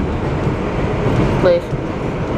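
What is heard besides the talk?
R62A subway train running on the IRT Flushing line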